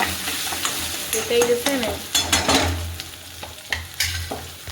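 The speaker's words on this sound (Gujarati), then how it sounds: "તમે લોકો પૌવા કેવી રીતે વઘારો છો બટેકા અને સિંગ" Poha being tempered with potatoes and peanuts in a pan, stirred with a spoon scraping the metal through a soft oil sizzle, in uneven strokes and taps, with a brief voice.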